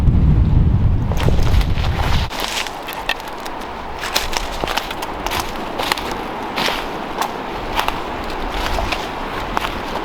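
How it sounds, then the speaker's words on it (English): Strong gusting wind buffets the microphone on a New Hampshire mountain peak, a heavy low roar for the first two seconds that then settles into steady, rushing wind noise with flutter, loud and close throughout. "Whoa, that wind."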